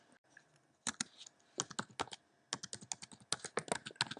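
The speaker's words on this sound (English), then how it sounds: "So type in your password and username." Keys tapped on a computer keyboard to enter a username and password at a login screen, quick close bursts of clicks with short pauses between, loud and alone.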